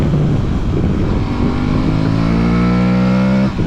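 A 2022 Aprilia Tuareg motorcycle engine, heard up close from over the tank, pulls hard under acceleration, its loud droning note climbing steadily in pitch for a couple of seconds before easing off.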